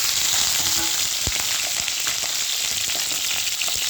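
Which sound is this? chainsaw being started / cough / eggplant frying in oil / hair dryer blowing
eggplant frying in oil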